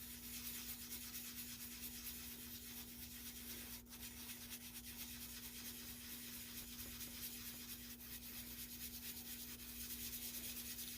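Clear styrene plastic sanded by hand with fine grit paper during a repair: soft, steady rubbing hiss, continuous and faint, over a low electrical hum.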